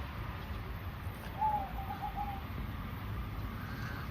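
Zebra dove (perkutut) gives a short, faint coo over a steady background hiss, a brief soft call with no voices.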